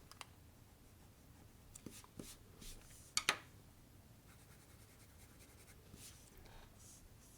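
Pencil scratching and erasing on paper while sketching arm and leg croquis lines: quiet, sparse strokes with a brief sharper scrubbing burst near the middle, faint and close.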